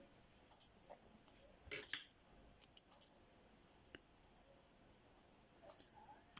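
A quiet snip of small scissors trimming leftover thread close to a double knot in Turkish needle lace, a brief crisp click cluster near the middle among faint scattered ticks in a still room.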